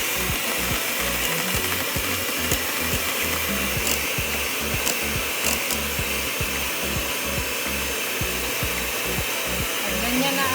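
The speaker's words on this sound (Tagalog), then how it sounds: "I-whip lang natin siya sa low speed for about 2 to 3 minutes." A hand mixer whirs steadily at low speed, whipping cream for a coffee jelly dessert, a continuous buzzing motor hum with a faint rhythmic pulsing, close and loud for the whole stretch.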